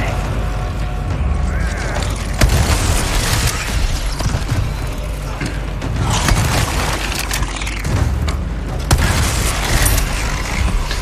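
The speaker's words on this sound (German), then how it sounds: "Die Shotgun hat Wumms, das gefällt mir." A shotgun in Resident Evil 4 Remake fires several loud, heavy booms spaced a few seconds apart over dense, noisy game action with mechanical clatter.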